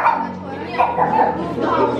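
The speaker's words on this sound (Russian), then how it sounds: "Столько собачек." Several dogs bark and yip at a decorated dog birthday party celebrating a two-year-old dog, with sharp, close barks mixed under steady human talking.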